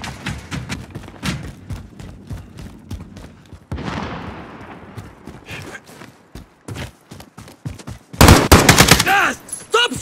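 Call of Duty Warzone gunfire aimed at the player: scattered sharp shots and short bursts at varying distances, then a dense, loud volley of rapid fire near the end.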